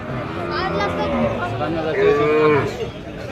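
Cattle moo repeatedly at a busy cattle market in Buniyadpur Saraighat, the long drawn calls rising close and loud over a steady background of crowd chatter.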